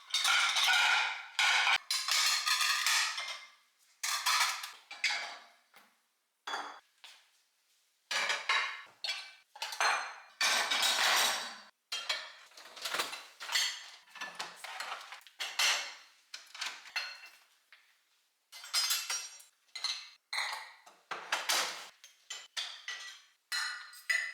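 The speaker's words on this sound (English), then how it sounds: "let's go ahead and put these dishes away really quick" Dishes and cutlery clinking and clattering as they are put away at home, close, sharp bursts of ceramic and metal knocks in irregular clusters with quiet pauses between, no talking.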